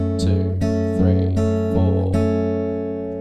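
Fingerpicked acoustic guitar chords from a song: plucked notes in a steady, even pattern over ringing, sustained chords, played close and clear with no voices.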